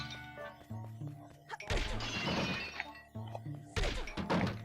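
Objects shatter and crash in The Legend of Zelda: The Wind Waker HD, two loud bursts of breaking and smashing between tonal game music, close and sharp.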